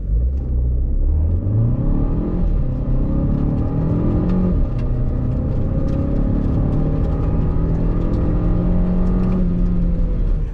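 A 2022 Renault Captur SUV accelerates hard from 0 to 100 km/h, its engine note climbing steadily through several gear changes, each marked by a brief drop in pitch, loud and continuous from inside the cabin.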